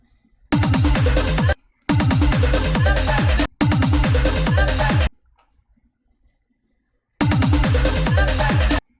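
Four loud bursts of harsh, buzzy audio processed with a robot effect in DJ Hero, separated by short silences and one longer pause, each with falling stuttering tones.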